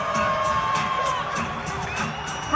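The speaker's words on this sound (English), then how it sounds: "You guys should hear the crowd in here." A crowd at the Pittsburgh Pro 2025 bodybuilding prejudging cheers wildly, with loud, continuous roaring, whoops and shouts filling the hall.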